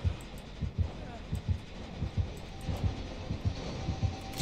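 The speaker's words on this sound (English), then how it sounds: "He hears the heartbeat." Heartbeat warning from the Dead by Daylight horror game: a steady, rhythmic run of deep, thudding pulses repeating through the whole stretch over a low background hum.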